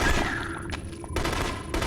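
Gunfire from The Conduit, a first-person shooter set in the Pentagon, arriving as a few broadband bursts with quieter, steady game ambience between them.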